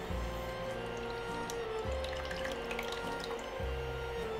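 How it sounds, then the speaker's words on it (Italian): Water poured into a pot of simmering tomato sauce flavoured with a garlic clove, a steady bubbling, splashing stream close by with no talking. "Mettiamo un po' d'acqua così togliamo un po' tutto."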